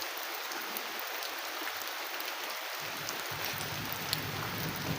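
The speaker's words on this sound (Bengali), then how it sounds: "এই যে দেখেন চারদিকে প্রচুর বৃষ্টি হইতেছে" Heavy rain pouring outdoors on a road, a dense steady roar of drops close by with a few sharper spatters, no talking.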